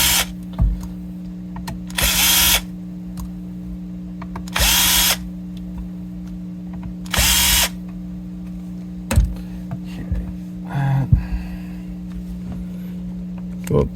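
A small power driver tightening tiny tuner screws on a 1999 Heritage H140 guitar gives three short whirring bursts over a steady low hum, with scattered light clicks and handling taps between them.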